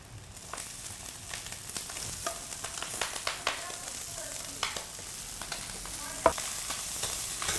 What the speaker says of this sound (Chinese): 好，来回爆炒它